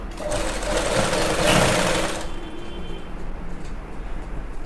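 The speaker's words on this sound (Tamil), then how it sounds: "இப்போ நம்ம வந்து தைக்க ஆரம்பிக்கலாம்" A sewing machine runs in a steady fast burst while stitching a pant for tailoring, loud and close for about two seconds, then stops, leaving quiet room noise.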